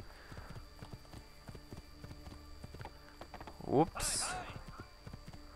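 Horse hooves clip-clop at a steady, fairly quick walking pace in the video game Assassin's Creed 2, with a brief sharp game sound and a whinny-like burst near the end while someone talks over it.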